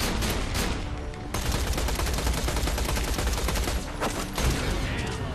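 A gun in the video game Borderlands The Pre-Sequel fires without a break in a loud, dense rattle that lasts the whole stretch, with small shifts in intensity.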